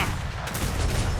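Port side cannons of a ship fire together in a naval roleplay video game, a dense, loud rumbling volley of overlapping booms filling the whole moment with no talk.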